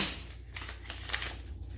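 Quick riffling and rustling of tarot cards being shuffled, a steady papery flutter running throughout with a low hum underneath.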